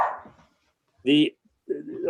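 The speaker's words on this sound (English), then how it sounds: "dogs must be up and running again." Dogs bark nearby during a planning and zoning meeting, a short loud burst of barking between stretches of room noise and what sounds like talk.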